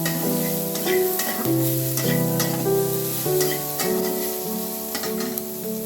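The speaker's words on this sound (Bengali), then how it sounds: "এই সময় আমি কাঁচা লঙ্কা আর কালো জিরে ফোড়ন দিয়ে দিলাম।" Green chillies and nigella seeds temper in hot oil for a puti fish dish, producing a continuous crackling sizzle that runs under steady background music.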